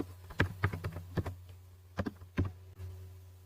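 Keys clack on a computer keyboard in separate bursts of a few quick strokes with short pauses between them, close and crisp over a steady low hum.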